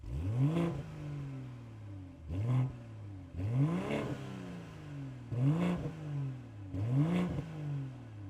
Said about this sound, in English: these large exhaust pipes that lead all the way back to that B58 engine. Let's hear what that sounds like